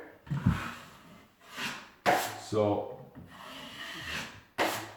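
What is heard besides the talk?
hand sanding a finish coat on wood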